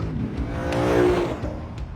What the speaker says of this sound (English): when you build the revs up, it sounds like what it is. A normally aspirated 5-litre V8.